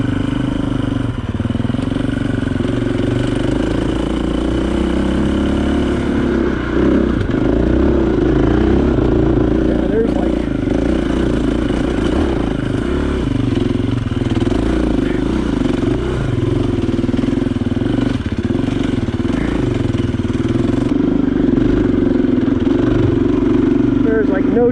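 KTM 350 EXC-F dual sport motorcycle ridden along the dry, dusty Carson Emigrant Trail, its engine droning steadily up close throughout with shifting revs, clattering chassis and wind noise, and a rider's voice talking over it.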